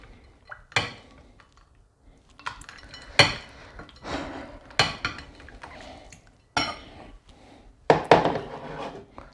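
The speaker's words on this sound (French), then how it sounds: "Vous mélangez bien, vous faites attention de ne pas trop en avoir sur les bords." A utensil scrapes and clinks against a bowl of melted chocolate in scattered, irregular strokes with quiet gaps between, close and fairly soft.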